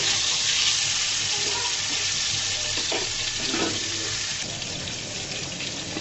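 Fish fries in oil on a stove burner with a loud, dense, continuous sizzle that barely changes over the few seconds.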